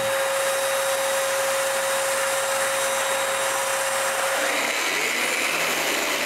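A spray gun applies finish to a wooden bandsaw base, producing a loud, steady airy hiss with a constant tonal whine that shifts partway through.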